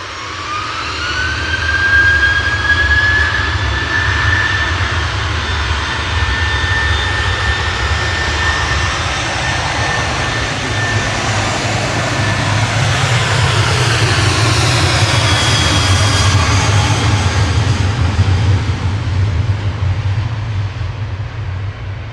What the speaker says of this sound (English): Here goes the Jet2 to Krakow